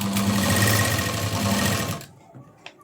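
A sewing machine runs in one steady loud burst while stitching blouse neck piping, then stops abruptly and leaves faint handling noises.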